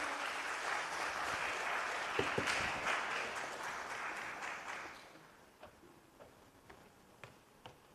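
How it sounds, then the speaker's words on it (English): An audience at a startup pitch event applauds, a dense wash of clapping that holds steady for about five seconds, then fades to a few scattered, distinct claps. "Let's give a big round of applause."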